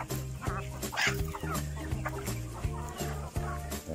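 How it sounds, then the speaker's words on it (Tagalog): Native backyard chickens cluck in repeated short, pitched calls that overlap steadily, close by, with a faint voice and outdoor rural background behind them. "Pre-raised chicken po yan, na native."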